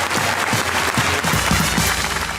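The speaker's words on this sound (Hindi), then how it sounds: "तालियां बजाएं।" A studio audience at a comedy talk show breaks into loud, dense applause, a continuous wash of many hands clapping at once.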